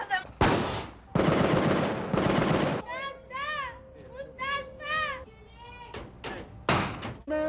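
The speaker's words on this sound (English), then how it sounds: "gunfire erupts." Bursts of rifle and machine-gun fire crack out during an Army training exercise at Fort Polk, loud and close, with sharp volleys separated by brief gaps and shouted voices between them.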